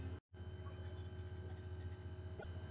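A pen scratches steadily across paper, close and continuous, as a maths step is written out by hand, with a low hum underneath and no speech.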